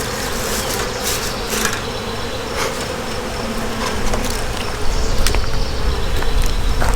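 Dense, steady buzzing of thousands of honey bees swarming around an open hive during queen marking, close and continuous with a slight swell toward the end.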